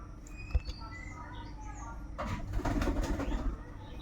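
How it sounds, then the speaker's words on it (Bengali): Pigeons in a home loft with adult pairs and young birds, soft low cooing and shuffling close by, with faint chirps and a brief rustle or flutter toward the end, fairly quiet overall. "তো আপনারা দেখতে পাচ্ছেন আমার লফটে এই 5 জোড়া ধাড়ি পায়রা আছে, আর 3 জোড়া মতো বাচ্চা আছে।"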